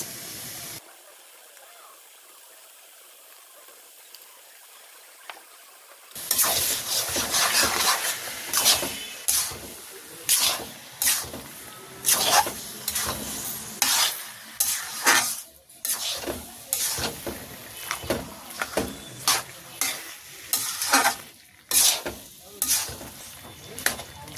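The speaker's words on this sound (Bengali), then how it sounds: "আমি এখন ইলিশ মাছের মাথা কাটা কোটা দিয়ে দিচ্ছি।" Hilsa fish head pieces hit hot oil after a quiet start, bursting into loud close sizzling with repeated sharp stirring and pan scrapes throughout.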